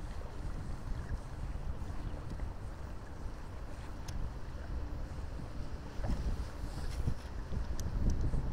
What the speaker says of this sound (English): Real windy today.